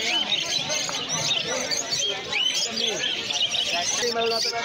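Pineapple conures and other caged exotic birds chirp and squawk densely at a busy street bird market, bright overlapping calls heard close with people talking among them.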